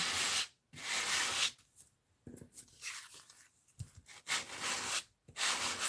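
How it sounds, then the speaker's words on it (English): Hand sanding in a studio: the paper scrapes back and forth in close, rough strokes that come in uneven bursts, with brief pauses between passes. "And let's sand this."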